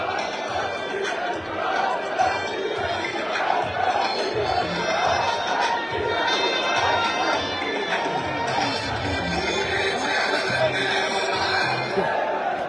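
USM Alger supporters surge onto the pitch at a stadium in Safi, producing a loud, continuous crowd roar with shouting, chanting and cheering throughout, dense and close with no quiet gaps.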